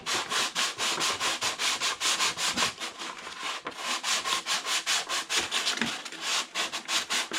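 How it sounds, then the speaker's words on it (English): Fine 200-grit sandpaper, held taut as a whole sheet, is worked by hand across the wooden leading edge of a large model Pitts Special aircraft. About two dozen close, even rasping strokes come in a steady back-and-forth rhythm, with no talking. "get yourself some fine sandpaper, some 200, something like that, and just literally work this thing across, pulling tension on it with a whole sheet"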